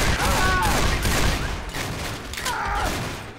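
Rapid bursts of gunfire from the Heart Attack Simulator video game, a dense, steady fusillade lasting throughout with shouting voices mixed in.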